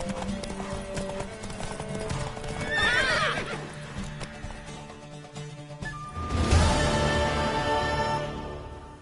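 Horse hooves clop along in a quick rhythm while a horse neighs loudly twice in The Witcher 3: Wild Hunt, the sounds layered over background music.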